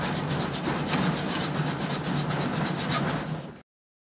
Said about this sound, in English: now what I want to try to use is this little metal cutting saw. And I'm just going to cut along the flange here.